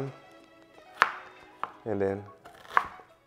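A knife chops through sweet potato on a cutting board, several crisp, distinct chops at uneven intervals, close and clear, with someone talking between the cuts.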